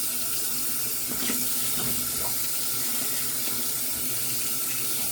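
A faucet runs hard and steady into a sink as shaving gear is rinsed, a loud close continuous rush of water with faint knocks and splashes underneath, no voice present.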